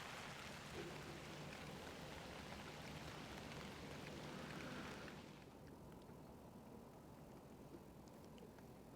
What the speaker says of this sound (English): I'm glad it's raining again